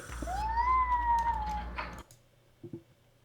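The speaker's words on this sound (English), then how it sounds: "Look what you did to the poor kitten, Soren." A kitten meows in a Minecraft modpack game, one long rising-and-falling cry followed by a short pause and a couple of faint soft sounds.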